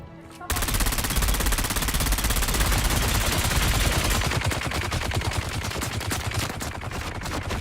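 Rapid automatic gunfire in the video game Dune Awakening, a loud sustained burst of fast repeating shots starting abruptly and continuing for several seconds, with the rhythm loosening toward the end.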